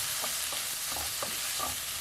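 Spring onion bulbs frying in a pan for a Thai-style prawn fried rice, a continuous bright sizzle with a few soft stirring scrapes, close and steady with no talking.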